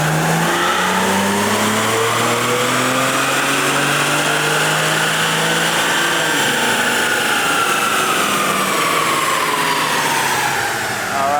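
A BMW 335 on JB4 map 2 with an E85 back-end flash and E40 in the tank, its engine revving loud and steady through a pull as the pitch climbs and sweeps, close and continuous throughout.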